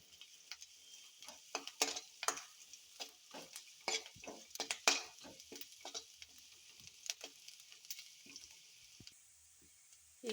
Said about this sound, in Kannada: ಸ್ವಲ್ಪ ಕರಿಬೇವು ಒಣಗಿಸಿಟ್ಕೊಂಡ್ರಿ, ಅದನ್ನ ಈಗ ಹಾಕ್ತೇನೆ ನೋಡ್ರಿ